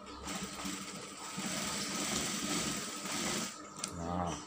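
A sewing machine stitching a trouser pocket, a close continuous mechanical whir with a rapid rhythmic buzz over a faint room hum, ending in a brief rattle.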